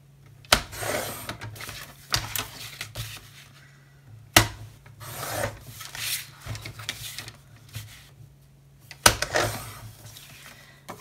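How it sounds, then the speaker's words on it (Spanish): Paper cards being cut for a Christmas scrapbook album, heard as a series of crisp snips and rubbing strokes at an uneven pace, close and fairly loud, with no talk. "Voy a cortar estas tarjetas."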